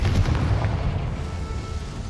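Confringo blasting spell explosion in the Hogwarts Legacy video game, a loud booming burst at the start that rolls off into a sustained low rumble and fading roar, no talking.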